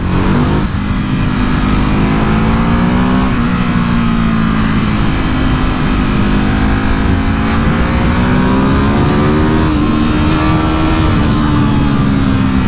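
A Ducati Hypermotard 950 motorcycle revs hard inside a road tunnel, its loud engine rising and falling through repeated throttle pulls and gear changes, echoing close and continuous with no speech.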